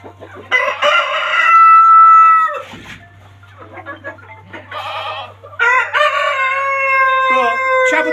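Large Brahma chickens, Columbian and light varieties among them, crow loudly and close by in several long drawn-out calls separated by short pauses, with a low steady hum underneath.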